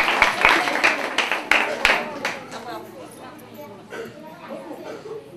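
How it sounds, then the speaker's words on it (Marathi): A crowd of women at a Nagpanchami festival game event bursts into loud, irregular clapping that fades within a few seconds into scattered claps and murmuring voices. "यांच्यासाठी जोरदार टाळ्या वाजत राहतात"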